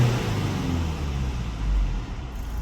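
A Mazda 6 Skyactiv 2.2 diesel with a refurbished turbo revs, giving a continuous close, loud engine drone that swells slightly partway through.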